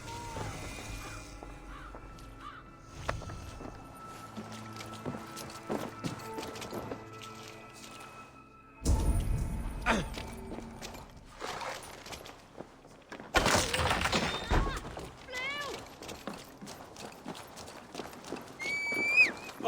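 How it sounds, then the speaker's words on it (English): Horse hoofbeats clip-clop at a steady gallop amid Assassin's Creed: Valhalla game sound effects, with occasional whinnies and clanks and a few sudden louder bursts; no voices. "Basim, Eivor, to horse!"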